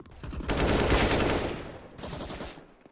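Gunfire rattles in a Counter-Strike esports match, a rapid automatic burst with dense overlapping shots for about a second, then a shorter second burst after a pause, loud and close.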